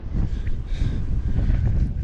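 Strong wind buffets a microphone at a high lookout in downtown Corpus Christi, Texas, making a loud, continuous low rumble with gusting bursts and no voices.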